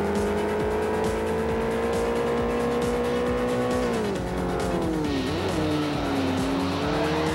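A Renault Megane race car at Circuit de Catalunya in Forza Motorsport 4 drones loudly under acceleration, its engine note dropping through a gear change midway with faint tire squeal before it pulls on again.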